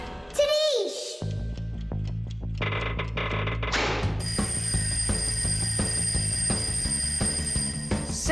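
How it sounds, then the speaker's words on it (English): A busy cartoon-like soundscape with a voice, then a bright, continuous ringing like an alarm clock bell going off steadily, loud and close. "I think I can hear my alarm ringing"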